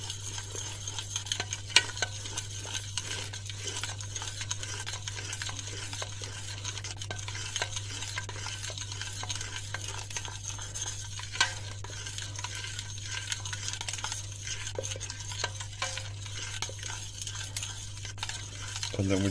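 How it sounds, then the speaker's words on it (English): Macaroni cheese with bacon, pine nuts, mixed herbs and salt being stirred in a pan, a steady soft scraping and clinking of utensil against metal with faint sizzling over a low constant hum, no talking. "Give that a good stir."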